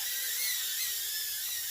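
Atoyx AT-66D racing drone with high-pitch propellers spinning indoors, giving a loud, steady, shrill whine close by with no talking.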